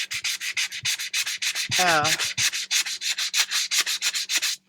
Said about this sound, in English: I've tried sandpaper. I've tried a wire brush. I've tried these sanding blocks.